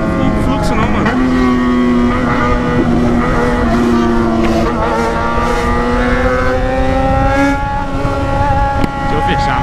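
Cars stream past in a busy parking lot, their engines droning and shifting in pitch as they pass close by one after another, loud and continuous with a voice occasionally heard.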